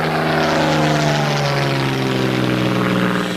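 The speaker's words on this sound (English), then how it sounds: "how evocative it is to hear the throaty roar of all those Merlin engines back here again" Merlin engine of a Spitfire Mark 9 two-seater roaring steadily in flight, a loud, throaty, continuous drone heard close up from the rear cockpit at a Biggin Hill air display, with no talk.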